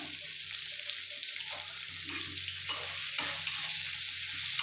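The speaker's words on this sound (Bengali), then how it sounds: "এই তেলের মধ্যে আমি পেঁয়াজ দিয়ে দিলাম" Steady oil sizzle of chopped onion frying in a pan, continuous and close, with occasional soft stirring scrapes.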